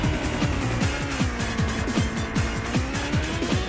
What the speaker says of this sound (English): Indy cars.